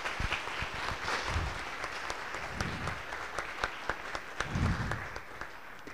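Audience applause for students at the opening of a university geography week, with a steady wash of clapping that holds for about six seconds, moderately loud, with a few sharper individual claps standing out.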